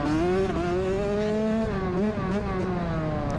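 Race vehicle on a dirt track with corners and jumps, engine loudly revving up and easing off in repeated cycles, rising and falling whine close by with no talk.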